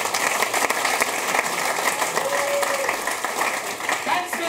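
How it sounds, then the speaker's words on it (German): Steady applause from an audience at a welcome ceremony, dense clapping filling the whole stretch at a constant level, with a faint voice or tone briefly audible underneath. "Danke für den Applaus."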